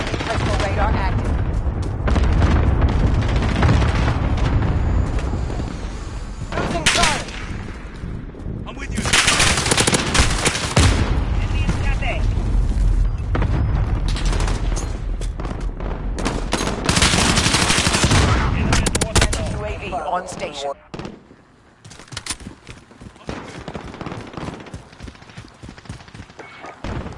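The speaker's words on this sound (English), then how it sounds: "Enemy cluster strike incoming." Heavy gunfire and booming cluster-strike explosions from a battlefield video game roar for long stretches, loud and dense, then thin out toward the end, with announcer voices and talk on top.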